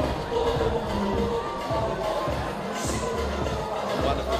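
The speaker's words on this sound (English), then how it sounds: "have a look at this crowd here for Ikali Tahi in the beautiful island of Fiji in their capital" A packed rugby crowd of Pacific fans in Fiji's capital roars steadily, a dense, continuous wash of cheering and crowd noise with no pause.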